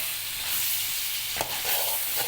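Mutton and spices being stirred in a hot pot for namkeen gosht shinwari, a steady loud sizzle and hiss with a brief scrape of the spoon, close up.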